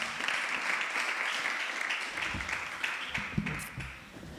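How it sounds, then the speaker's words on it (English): Audience applause at a panel session of a future-themed festival, a steady wash of clapping from a crowd that stays fairly even for several seconds and then thins out toward the end. "please give them a round of applause"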